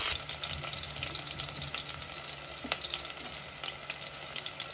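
Shallots frying in hot oil in a single pot for sambar rice, a continuous bright close sizzle with faint spitting pops and light stirring, no voices.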